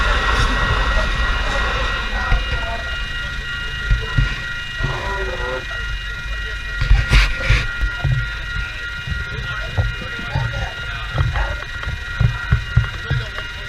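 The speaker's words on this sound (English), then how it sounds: "Followed by a city-bound passenger train heading back to Adelaide." A city-bound passenger train to Adelaide rolls past close by, a steady rumble and rattling clatter of wheels on track, with rhythmic clicks building and easing over several seconds.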